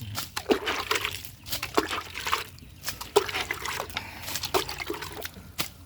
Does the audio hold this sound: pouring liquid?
yes